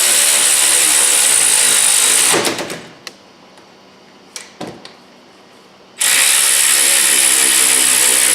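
Brake bolts being tightened with a hand ratchet during a brake job, a loud continuous metallic clicking and whirring that stops mid-clip, leaving a few faint knocks before the ratcheting resumes just as loud.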